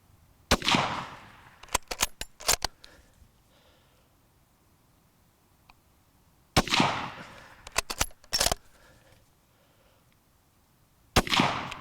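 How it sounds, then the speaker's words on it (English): A 1938 K98 rifle fired at a range, with a few sharp loud reports spread across the stretch and brief echoing tails, separated by quiet gaps. "that's what you call a possible hang fire"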